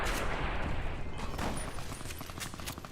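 Faint, rapid gunfire crackles in Fallout: New Vegas as a volley of shots fires in quick succession against a muffled background, holding at a low, steady level.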